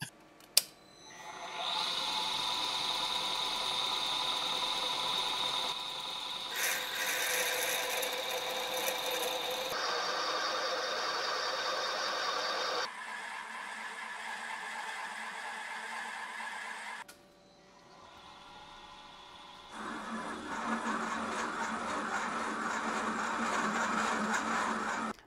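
A lathe bores out the hole in a scrap-built rotary table, giving a faint mechanical whir and hum in several sections of changing pitch and intensity, each interrupted by brief pauses, with no speech.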